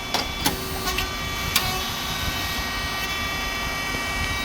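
A rice cake machine with a three-phase motor, a pump and a cooling fan runs with a steady mechanical hum and whir. A few sharp clicks or clacks come near the start, and there is no speech.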